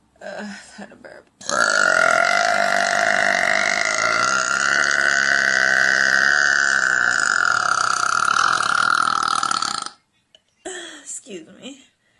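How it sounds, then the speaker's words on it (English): A woman lets out one long, loud burp lasting several seconds, followed by a brief softer burp or grunt near the end. "Had a burp."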